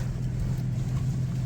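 A first-generation Toyota Tacoma with a swapped-in 5VZ V6 idles steadily close by, a low constant engine rumble with no talk over it.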